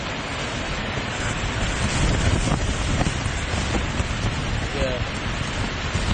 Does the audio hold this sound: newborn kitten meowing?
no